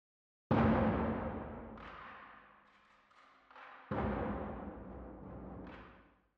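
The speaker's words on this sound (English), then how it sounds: "And percussion 2 BAM sounds like this." Big cinematic percussion hits in a Hans Zimmer style, the BAM layer for a second percussion part: a heavy booming strike, a few lighter accents, then a second massive hit with a long decaying tail, loud and alone.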